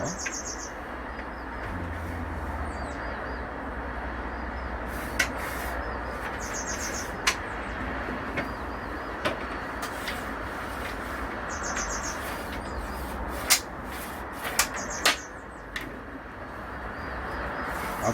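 Outdoor woodworking workshop with birds calling intermittently in short high repeated phrases, fairly distant, over a constant ambient hum with occasional sharp clicks.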